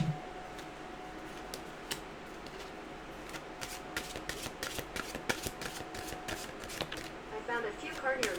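Oracle-style mantra cards being shuffled and handled, with a run of quick crisp card flicks and taps, close and fairly quiet, picking up pace toward the end.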